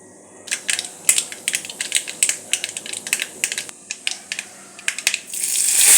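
Mustard seeds splutter in hot coconut oil in a small wok while cooking a leafy stir-fry: a fast, irregular string of sharp crackles and pops, close and steady, building into louder sizzling near the end.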